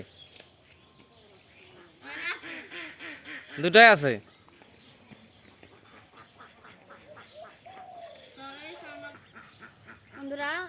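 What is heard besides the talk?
ducks quacking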